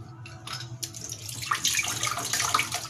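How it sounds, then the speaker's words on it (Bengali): Hands being rinsed under a running kitchen tap after cooking, a steady splashing stream of water hitting the sink that grows fuller and louder partway through, heard alone without talk. "হাতে ধুয়ে নিই"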